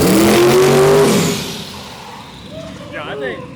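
1927 twin-turbo LS T-bucket rat rod launching hard on a wet street, a loud engine roar at the start that quickly fades into the distance, with voices talking afterward.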